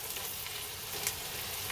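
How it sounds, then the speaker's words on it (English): Onions sautéing in a pot for Hungarian goulash, a steady soft sizzle and crackle at low volume, continuous and even with no talk. "So what we're doing here is we're getting these onions translucent."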